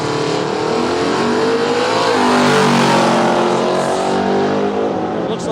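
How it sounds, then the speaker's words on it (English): A Ford Falcon ute engine runs loud and close at a drag racing road trip event, a steady throaty drone that swells slightly mid-way and holds without break. "the motor sounds so crisp and clean"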